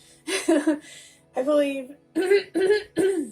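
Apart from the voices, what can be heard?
throat clearing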